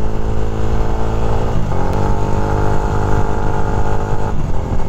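Loud, close motorcycle engine with a hand clutch running steadily, its pitch dropping and shifting partway through as it changes into second gear, then holding a new tone.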